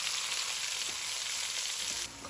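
Pureed onions and chilies sizzle steadily in melted butter in a pan, a bright, even frying hiss that stays loud and constant without any talk.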